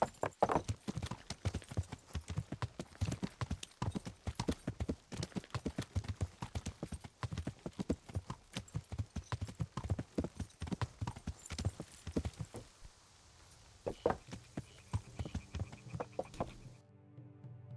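A horse ridden in Kingdom Come: Deliverance gives a steady, rapid clip-clop of hooves close by, with faint rural background sounds such as fowl, and stops abruptly at the end.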